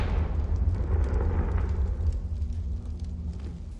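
A Confringo fire spell going off in Hogwarts Legacy, a deep rumbling explosion whose low roar swells at once and then slowly fades out over a few seconds, with nobody talking.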